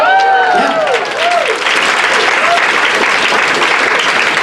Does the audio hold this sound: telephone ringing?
no